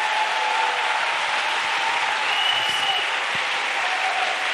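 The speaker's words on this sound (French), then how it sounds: "Let's clap for Jesus." Sustained applause from a church congregation clapping for Jesus, dense and even throughout, filling the room without a break.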